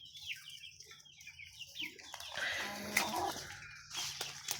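Chickens in a poultry house in Kashkadarya, Uzbekistan cluck and chirp in a lively, overlapping flock, close and moderately loud, with scattered higher calls.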